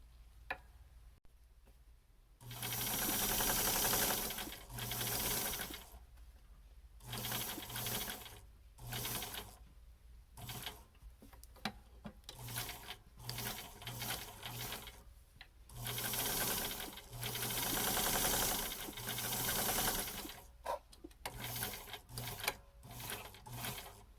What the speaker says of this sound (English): The next step will be to sew these edges down.